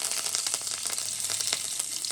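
Mustard seeds, cumin and curry leaves sizzle in hot oil for a dhokla tempering. The crackle is steady and hissing, with small pops spread throughout and no voices.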